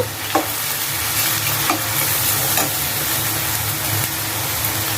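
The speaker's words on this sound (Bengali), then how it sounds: "মরিচের গুঁড়া কোয়াটার চামচ ভালো করে মশলা কষায় নিব" Spices and chili powder stirred and fried in a pan for a green banana and rui fish curry give a steady loud sizzle throughout, with a few sharp spoon scrapes against the pan, no voices.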